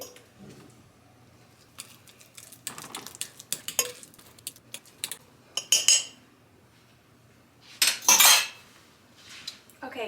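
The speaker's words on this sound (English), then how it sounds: "I'm going to just mash it up real good so that there's not any" Bananas mashed in a bowl for homemade banana bread, with scraping utensil clinks and squishy pressing strokes, irregular and close, swelling into louder bursts of clatter near the end.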